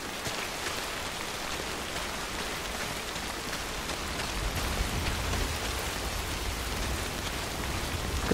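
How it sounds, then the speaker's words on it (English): Steady rain in the video game Death Stranding, a dense, even hiss of falling drops with a low rumble underneath, continuous and unbroken throughout, with no voices. "it is rainy as fuck here"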